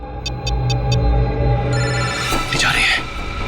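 A telephone rings in a short repeated electronic trill of four quick bursts, followed by a steady tone and room noise with a voice cutting in near the end.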